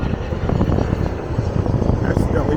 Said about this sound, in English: Planes are coming in.